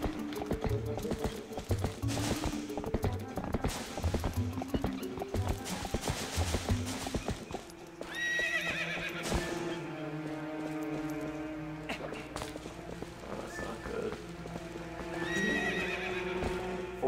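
Horse in The Legend of Zelda: Twilight Princess, hooves clip-clopping in a quick galloping rhythm, then a loud neigh followed by music-like tones, clear and close.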